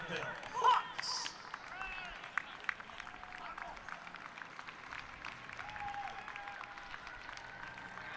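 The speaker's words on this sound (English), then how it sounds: "please stand and cheer as we introduce the starting lineup for your Birdville Hawks" A crowd at a high school baseball game between the Grapevine Mustangs and Birdville Hawks claps and cheers steadily for the starting lineup, a burst of applause at first, then sustained distant crowd noise with whistles.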